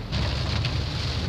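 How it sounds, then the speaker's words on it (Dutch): Heavy rain pours onto a car in a steady, dense, loud hiss with no pauses and no voices. "ik presenteer regen. Kun je het zien? Harde regen."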